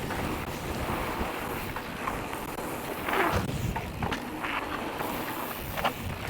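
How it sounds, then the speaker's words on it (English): Steady rushing headwind buffets the microphone during a gravel cross-country e-bike ride at The Track in Portreath, Cornwall, a continuous loud roar with a few stronger gusts and no speech. "Headwind."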